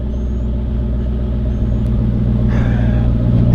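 A Jeep SRT8 V8 with open exhaust cutouts idles in a steady, deep, loud rumble, holding constant throughout with a faint rise in roughness near the end.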